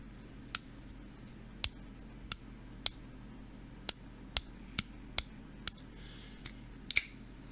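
A Bestechman Dundee folding knife clicks open and shut on its detent, about a dozen sharp, crisp snaps spaced irregularly over quiet room tone, close and distinct with no talk.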